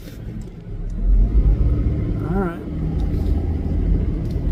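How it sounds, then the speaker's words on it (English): A car passes on a rural road in northwest Montana, a close low rumble that swells and fades while a person speaks briefly over it. "Whoops, there's a car."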